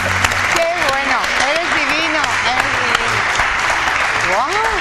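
Studio audience applause on a Spanish television show, sustained and fairly loud, mixed with background music and voices talking over it throughout.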